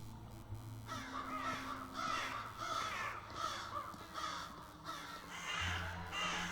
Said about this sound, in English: Damned crows!